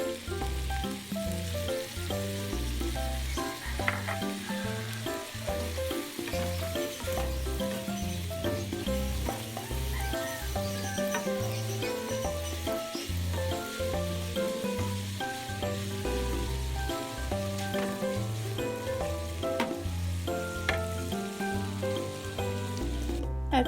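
Pork sisig sizzles in a pan after soy sauce goes in, a steady crackling fry heard under loud music that runs the whole way through, with occasional sharper spits and pops.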